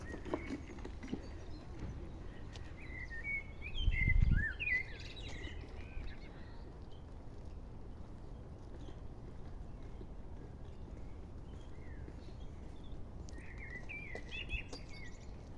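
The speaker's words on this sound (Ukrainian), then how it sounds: "А тут на цьому дереві щось багато пташок сіли, так співають." Many birds perched in a single tree, their chirps and short song phrases coming in scattered bursts at a moderate distance over a quiet outdoor hum, with a soft thump partway through.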